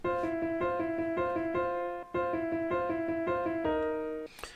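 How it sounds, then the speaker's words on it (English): Piano notes repeat in a steady pattern, bright sustained chords struck at a regular pace, played alone and close. "So this is the sound of the piano."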